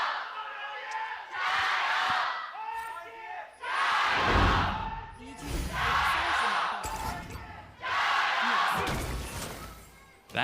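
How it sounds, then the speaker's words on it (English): A loud esports arena crowd in Shanghai roars and cheers during a League of Legends LPL match between Team WE and Invictus Gaming, swelling in repeated thunderous waves that stay close and dense throughout. "That is a very loud crowd."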